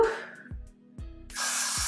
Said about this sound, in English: And then what I'm gonna do is just go in and spray.